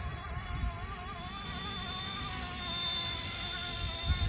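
An RC Era MD500 scale model helicopter flies in windy conditions, its steady whining rotor and motor drone continuous and fairly even throughout, heard alone.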